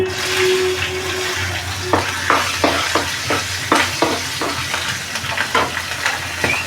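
Green chilies dropped into hot oil with asafoetida for upma, a soft frying hiss with a series of sharp scraping and clinking strokes of a spatula in the pan, close and without voices.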